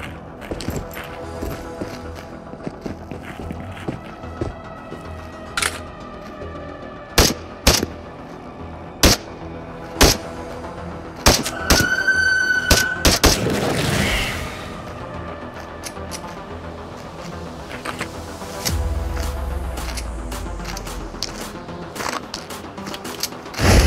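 Sharp, isolated gunshots ring out from a poorly maintained, jam-prone gun in the VR game Into the Radius. The shots come at uneven intervals over a busy game backdrop, with a brief burst of rapid fire in the middle.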